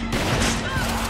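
Gunfire rattles in a burst during Resident Evil 5, loud, dense and close, with a voice briefly speaking over it.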